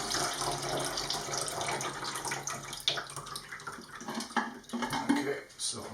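Lint-laden rinse water poured into a lint filter bowl and draining away, a quiet running trickle with splashy bursts that rise and fall.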